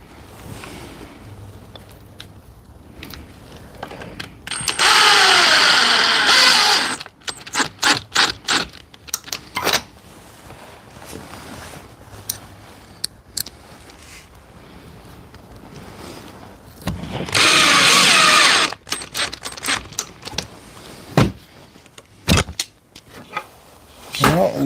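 A power drill driving pocket screws into wood during a drawer cabinet build, with two long loud whirring runs and many short stuttering trigger bursts, all close by.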